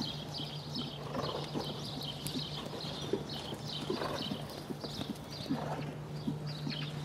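Horse hooves clip-clop on the footing of a riding arena where horses are ridden and a draft horse is driven, a regular rhythmic patter of hoof beats over a constant low hum.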